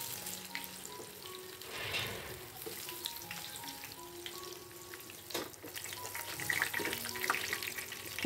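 Tofu and tempeh fry in a home kitchen pan with a soft, steady sizzle, joined by faint clinks and stirring noises.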